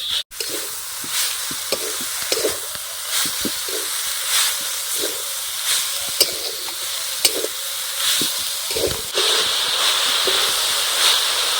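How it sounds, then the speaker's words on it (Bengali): Coconut filling for a Bengali sweet fries in a pan, a steady hiss of sizzling underlying irregular stirring scrapes and taps from a utensil, close and continuous. "নারকেলের পুরটা ভালো করে ভেজে নেব"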